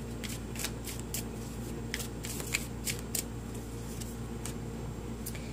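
Tarot cards are shuffled close by in quick soft riffles and flicks, a series of light papery bursts over a steady low electrical hum in a quiet room.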